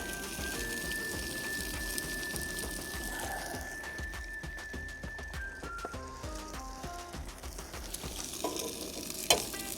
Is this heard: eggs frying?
yes